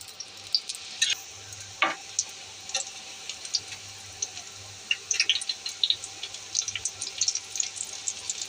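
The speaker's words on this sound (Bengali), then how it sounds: "মাত্র একটি ডিম দিয়ে অল্প একটু তেল দিয়ে আমি কচু মোথা ভাজছি" Taro corm frying with egg in a little oil gives a faint, steady sizzle, with light scraping and clicking from stirring scattered throughout and a few sharper clinks near the end.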